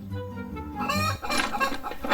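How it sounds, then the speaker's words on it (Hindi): A cartoon hen clucks twice in quick succession, close and clear, with a short rising squawk in the second call. "वाह, कितनी प्यारी मुर्गी है।"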